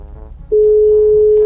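A steady, loud phone tone from a GTA V roleplay game, heard when a call fails during a power outage, starts abruptly after a short pause and holds continuously.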